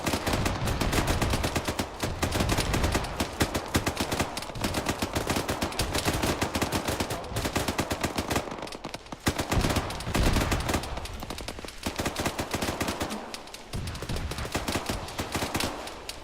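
A dense, continuous firefight rages in the military game Arma 3 as rapid rifle and machine-gun bursts crackle loud and close, with barely a pause for the whole stretch and no voices over it.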